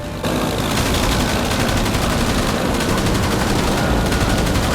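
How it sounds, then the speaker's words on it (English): Machine gun fire from the rear gunner of a German Heinkel bomber in World War II, a loud continuous rapid burst of shots under a dense roar, lasting several seconds after a brief quieter start. "Green tracers began shooting out from the German aircraft as the rear gunner spotted the Blenheim."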